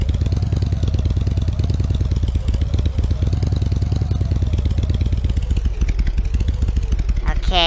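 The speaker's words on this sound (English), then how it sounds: "I'm gonna drive my motorcycle right up the side of this hill on the path" Motorcycle in the Roblox Bloxburg game driving up a hillside path: a loud, steady, pulsing engine rumble runs throughout, ending with a brief rising tone.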